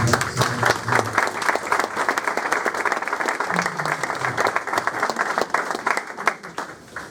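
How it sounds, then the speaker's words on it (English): A crowd applauds steadily at a motor racing media day, dense clapping filling the whole stretch, with a few voices briefly audible beneath it. "I think they deserve a round of applause"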